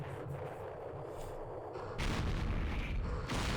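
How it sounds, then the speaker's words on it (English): Artillery fire in the Vietnam war game Campaign Series Vietnam, a heavy boom about two seconds in that sustains as a loud rumbling roar over quieter background noise. "That's artillery."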